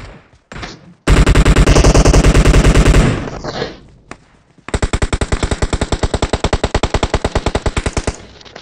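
Automatic rifle fire from an M416 carried by a bot in a mobile shooter game: a loud, dense burst, a brief lull, then a second long run of rapid, evenly spaced shots at close range.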